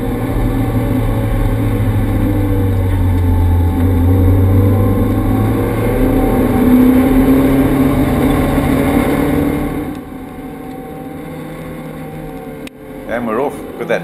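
A field of vintage racing cars roars off the line together at the flag drop of a Bulawayo race, a loud sustained rumble of engines accelerating away, with a commentator talking over it before the noise drops off.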